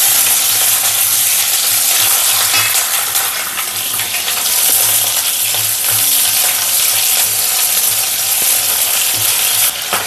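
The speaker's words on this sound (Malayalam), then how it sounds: "പച്ചമുളക് കൂടി ഇടാം" Green chillies, dried red chillies and mustard seeds fry in hot oil in a pan for an Onam kalan curry, giving a loud, steady, dense sizzle with occasional stirring clinks throughout.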